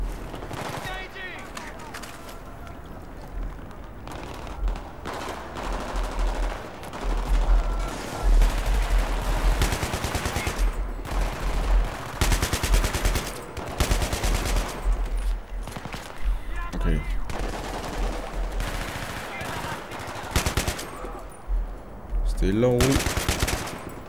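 Rapid machine gun bursts and volleys of gunfire from the video game Battlefield 3, loud and repeated throughout amid explosions, with a voice talking over parts of it.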